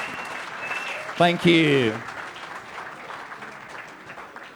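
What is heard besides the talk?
crowd applause at museum award ceremony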